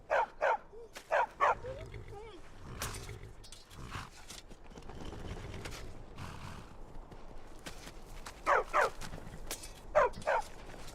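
A war dog in the Skyrim video game barks in short clustered bursts at the start and again near the end, with game speech and hoof clip-clop in between.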